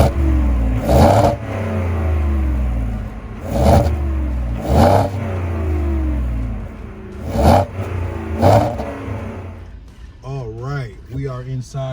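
A 2021 Ford F-150 XLT pickup engine revs in several short bursts over a steady idle, close and loud, with a voice speaking briefly at the end.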